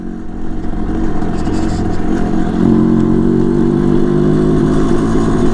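A 450cc four-stroke motorcycle engine running loud and close, a steady throaty drone that swells as the revs rise about halfway through and holds there.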